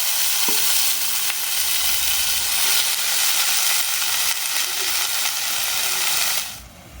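Onion, garlic and green chili fry in hot oil with a loud, continuous close-up sizzle and hiss that runs almost unbroken, then quickly dies away at the very end.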